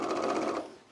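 A sewing machine with its presser foot lowered stitches denim jeans in one brief, steady mechanical run that fades at the end.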